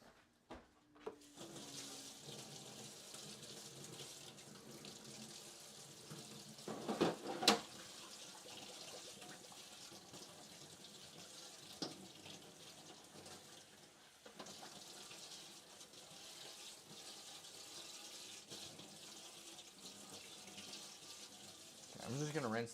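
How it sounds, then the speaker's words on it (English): A sink tap runs as something is rinsed in a home kitchen during dinner prep, a faint steady stream of water with a few louder splashes and clatters, heard close and alone. "I'm just going to rinse this off because we're going to end up needing this."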